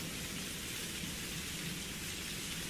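Steady rain falls in a soft, even wash with a low rumble beneath it, faint and continuous throughout, without any voices.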